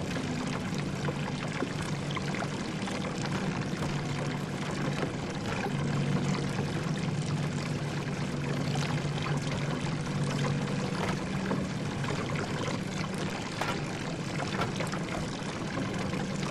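Water pours steadily in the horror video game The Door in the Basement, a continuous rushing, splashing flow at even loudness with no voices.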